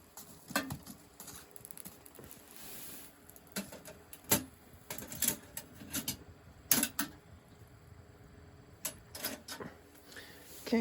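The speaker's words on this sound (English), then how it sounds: "I can actually mess with the controls here and even pop it open and give it a little stir." In a hot tent during winter camping, a wood stove door is popped open and a poker rod stirs the fire, giving close, sparse metallic clinks, scrapes and knocks in uneven bursts.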